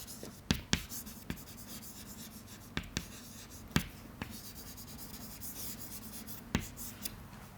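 An equation being written by hand makes soft scratching strokes, broken by scattered sharp taps against the writing surface, in a quiet room with no talking.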